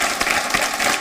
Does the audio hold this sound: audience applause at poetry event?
yes